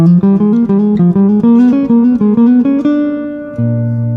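A quick jazz run of bright, plucked-sounding notes climbs in a steady diminished-scale pattern, then settles on a held low note at the end. No voices.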